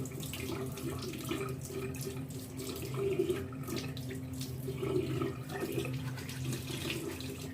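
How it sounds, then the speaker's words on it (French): Lukewarm water runs from a tap as a face is rinsed after a glitter peel-off mask, a steady close splashing flow with small changes in intensity, no talking. "Je vais rincer carrément à l'eau tiède"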